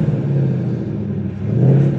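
Ford Mustang engine revving, a deep, loud rumbling drone held for about two seconds that swells toward the end, heard close with no talk.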